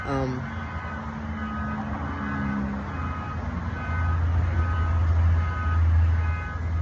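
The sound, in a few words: tow truck reversing with backup beeps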